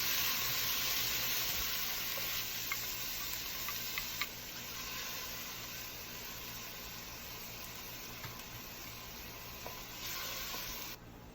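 Ingredients for Puerto Rican shrimp asopao stir-fry in a hot pan, giving a steady, close sizzle with occasional stirring scrapes and ticks throughout, no talking.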